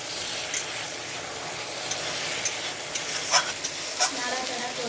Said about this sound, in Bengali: ভালো করে নাড়াচাড়া করতে থাকবো, নাহলে নিচে লেগে যাবে।